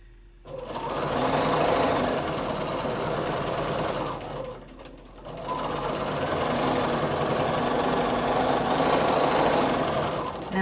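A sewing machine stitches free motion quilting across a quilt in two long, steady runs of rapid whirring, separated by a short pause near the middle, close and loud.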